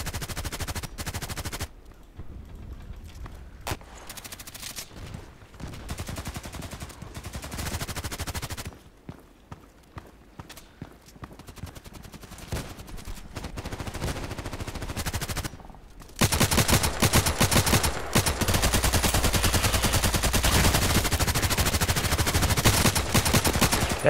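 Hip-fire gunshots in Contract Wars crackle in short bursts and rapid strings of loud, sharp shots with quiet gaps between. A heavier, sustained stretch of automatic fire takes over for the last several seconds.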